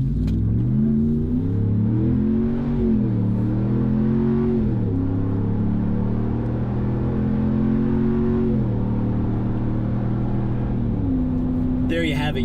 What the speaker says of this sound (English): I'm gonna whip around here, let you hear it at wide open throttle.